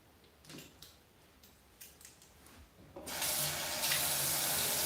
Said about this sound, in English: I'm pretty much adding water with each section as I go